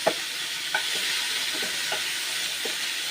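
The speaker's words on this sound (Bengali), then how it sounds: "এই তেলের মধ্যেই আমি এখন পেঁয়াজ এবং মরিচ কুচি দেখো" Onions and chopped chili fry in hot oil for a fish curry, a constant hissing sizzle close by with a few soft scrapes and clinks of stirring scattered through it, with no voice.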